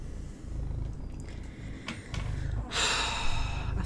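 A house cat purring close to the microphone in a cluttered home room, a steady low rumble running throughout with a few brief rustles and a brighter breathy burst near the end, no speech.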